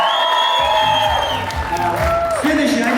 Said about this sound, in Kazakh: Люляға отдельно шапалақ бөлек.